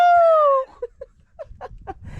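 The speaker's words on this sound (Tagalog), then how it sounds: "Umaga na pala, yung manok natin nagtok-togaok na." A morning rooster crow, with the tail of a crow drawn out and falling in pitch, followed by a scattering of short, soft clucks and scratchy rustling nearby.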